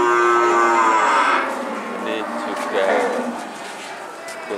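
Cattle at the Siyono livestock market, with thin cows among them, moo loudly and close at first, then other animal calls and crowd noise go on under someone talking.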